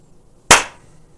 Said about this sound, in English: Oh, I didn't do the clap.